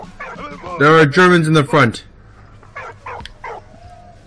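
A dog in the World War I video game Valiant Hearts: The Great War barks three short, sharp times. The barks follow a stretch of spoken dialogue.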